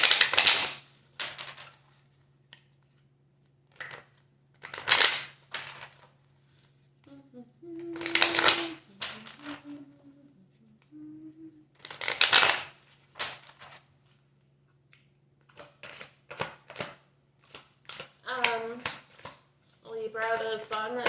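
Tarot self-care cards shuffled in repeated bursts of crisp riffling and slapping, loud and close, with short pauses between bursts and a faint low hum underneath.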